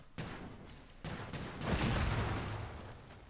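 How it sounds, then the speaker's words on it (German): Explosions of thrown objects in the video game Dragon's Dogma 2, a couple of dense, rumbling bursts that swell and linger with crackling debris, heard fairly close without talk. "Wenn du die schmeißt, explodieren die auch."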